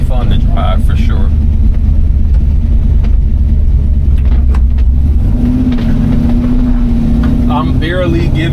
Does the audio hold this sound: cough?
no